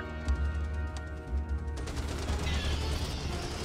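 Heavy machine gun fire in the sci-fi strategy game Starship Troopers: Terran Command, a dense sustained rattle of gunfire with sharp bursts early on, then a thick continuous roar of shooting and battle noise.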